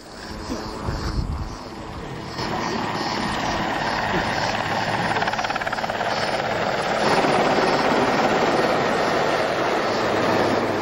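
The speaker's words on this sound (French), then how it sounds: "L'hélicoptère soulève des nuages de poussière." A loud helicopter engine and thumping rotor roar steadily and close by, kicking up dust clouds, growing slightly louder and more intense partway through, with wind buffeting the microphone.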